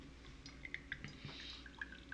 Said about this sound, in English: My pour over is not acting right now. It's not dripping straight down.